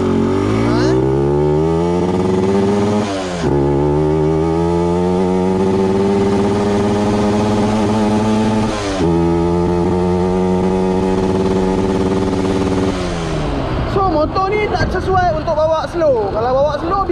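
A Yamaha 125Z two-stroke motorcycle, long left without maintenance, revs loudly and harshly up close in repeated rising blips with brief drops, and people talk over the engine near the end.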